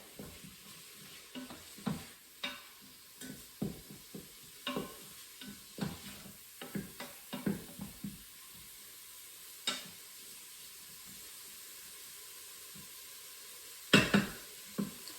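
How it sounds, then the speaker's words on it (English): Seasoned food sizzling quietly in an Instant Pot while a spoon stirs it, giving a series of sharp, close knocks and scrapes against the pot over a faint, steady sizzle. "I'm gonna go ahead and give that all a stir and let it cook for about another minute"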